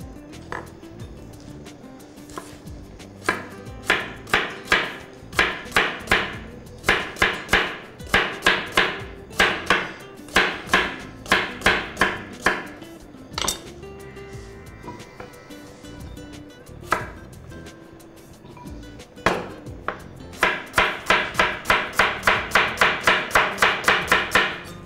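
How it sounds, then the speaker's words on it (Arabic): Rapid rhythmic knife chops through zucchini and carrots on a cutting board in quick bursts, pausing briefly between runs, close and crisp. "عندي كوسة وعندي جزر، هنقطعهم بقى تقطيع كده"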